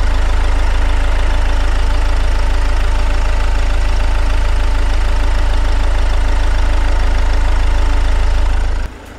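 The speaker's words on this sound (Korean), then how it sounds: "자, 디젤입니다. 소리 들려 드릴게요." Diesel engine of a 2021 Genesis GV70 idling steadily, a loud, constant low rumble with a faint ticking texture, running alone for about nine seconds before cutting off abruptly.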